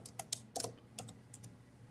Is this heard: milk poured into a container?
no